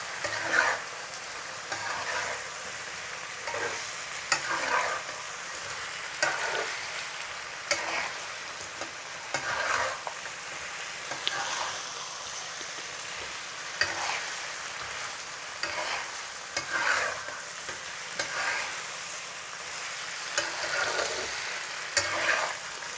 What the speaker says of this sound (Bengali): এখন আমি এখানে মাছগুলো দিয়ে দিব। এখন এটা কিছুক্ষণ নেড়ে নেব।